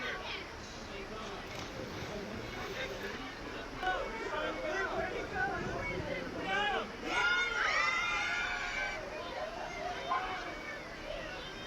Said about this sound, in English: Do you hear how many people are cheering from the boat?